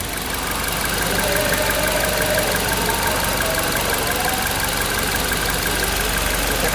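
A Suzuki Ertiga engine idles steadily up close, a constant even rumble with a faint mechanical hum, no ticking knock, and no change in revs throughout.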